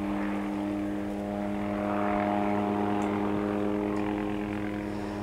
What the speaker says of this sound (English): So that is a helicopter buzzing us really close and really low.